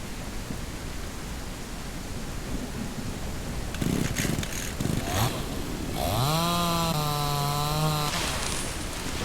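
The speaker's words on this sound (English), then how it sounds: "the chainsaw, essentially, you just need fuel. It makes cutting down a tree ridiculously fast." Chainsaw in the Mist Survival game, revving up and cutting through a tree: a loud, steady engine drone over ambient noise, rising into a sustained high-pitched cutting whine in the final seconds, with no talking.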